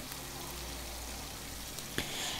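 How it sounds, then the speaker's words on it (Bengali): Dried fish goes into a pan of sautéed spices for a brinjal dish, giving a steady soft hissing sizzle throughout with one sharp clack near the end and no speech. "এই তো দিয়ে দিলাম শুটকি, মশলাগুলো কষানোর পর"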